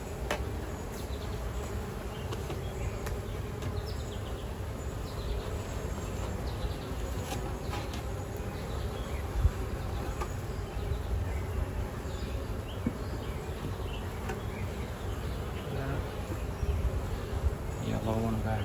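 Steady insect buzzing fills the scene, a dense drone of many honeybees close by at an open hive during an inspection, continuous throughout with occasional brief louder passes.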